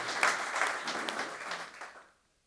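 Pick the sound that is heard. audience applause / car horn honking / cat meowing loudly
audience applause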